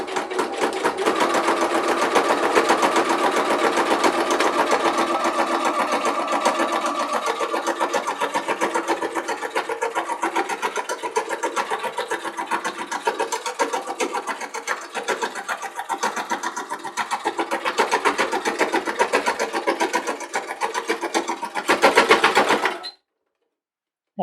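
A sewing machine stitching a crochet hook roll, a fast continuous mechanical whirr running steadily for over twenty seconds close up, then stopping abruptly near the end.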